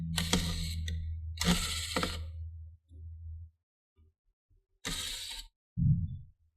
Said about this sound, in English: we want to remove 1, 2, 3, 4, 5, and 6, 7 screws that are holding the top cover